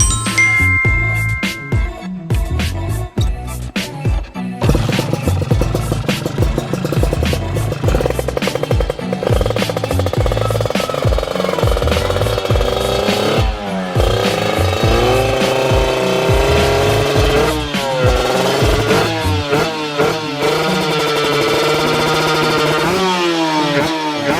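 A Kawasaki KR150 two-stroke motorcycle with a tuned racing engine and big carburetor revs hard and close by. Repeated throttle blips rise and fall in pitch, then settle into sustained high-rev pulls without pause.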